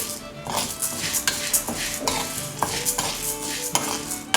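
Toor dal dry-roasts in a pan over moderate heat, with rhythmic scraping and stirring strokes repeating about every half second over a soft crackle.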